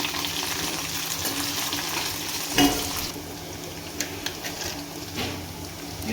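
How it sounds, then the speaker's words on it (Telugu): Okra frying in a pan with curry leaves added, a moderate sizzle under repeated stirring, one sharp clatter partway through and a few soft spoon knocks after, with no talking. "కరివేపాకు కూడా వేసుకొని ఒకసారి ఫ్రై అంతా మళ్ళీ తిప్పుకోవాలి"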